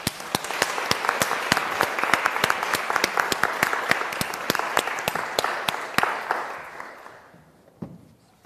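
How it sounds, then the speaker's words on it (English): An audience at a university public lecture on Black feminism in Europe gives warm applause welcoming a speaker, crisp individual claps close by within the steady clapping, which thins and fades out after about seven seconds. "let's give a huge round of applause and a big welcome to Dr. Mame-Fatou Niang."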